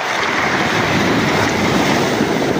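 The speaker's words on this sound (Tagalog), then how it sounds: "Uy, malaki alon." Big ocean waves crash and roll loudly and continuously near the shore, with a broad roar mixed with wind buffeting the microphone.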